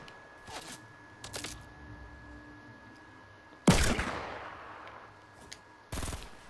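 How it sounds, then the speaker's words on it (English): Revolver gunshots in a shooter game: a single loud, sharp blast with a decaying tail stands out against a quiet background, followed later by another strong shot and a few faint distant cracks. "Headshot him with the revolver"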